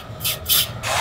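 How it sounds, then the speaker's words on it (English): Super glue accelerator sprayed in three short, loud hissing bursts from an aerosol can onto a carbon fiber headphone stand, close up with brief gaps between the puffs. "I'm gonna hit it with some super glue accelerator."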